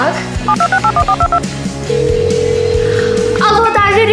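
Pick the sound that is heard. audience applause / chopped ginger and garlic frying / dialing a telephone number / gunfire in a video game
dialing a telephone number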